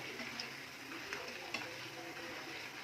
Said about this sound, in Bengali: এটাকে আরেকটু হালকা করে আমরা ভেজে নেব